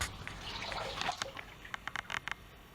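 Greens sloshed and bounced around in a pan of water for rinsing, a soft watery swishing followed by a few quick light splashes and drips, close and quiet with no talk.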